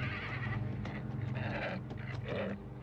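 Horse neighing in the 1978 animated Lord of the Rings during a Black Riders attack, several shrill whinnies and snorts over a busy orchestral and action soundtrack.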